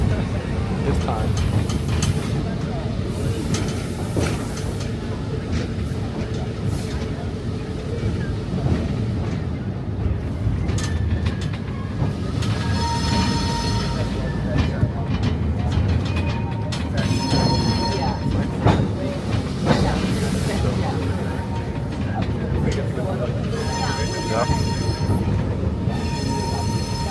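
A Roaring Camp Railroads train in Santa Cruz rumbles along heavily from on board, with a constant low roar, wheel squeals and metallic screeches rising at intervals, and people talking over it.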